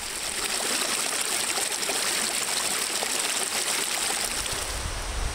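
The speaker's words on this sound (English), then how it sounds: "I'm going to go get water for breakfast" Water collected from a stream at a wilderness camp: a continuous trickling and splashing rush of running water, close and fairly loud, with no voices.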